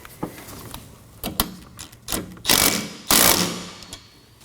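A ratchet snugs down the wiper arm fastener on a 2020 Toyota Corolla, with a few quick clicking ratchet strokes close by, followed by two louder, longer rasping bursts, with no talking.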